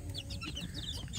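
Free-range village chickens cluck softly in a short, steady burst, with bird chatter layered over a low background rumble.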